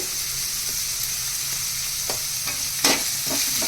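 Onions sauté with turmeric, salt and capsicum in a pan, a steady bright sizzle broken by a few sharp stirring clatters toward the end.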